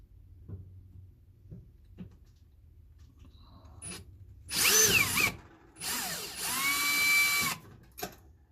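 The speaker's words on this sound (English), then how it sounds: "I'm going to go ahead and get these screws out" A power driver removes screws from a used stove, with faint handling taps first, then two loud close whirring bursts of several seconds each and a short final buzz.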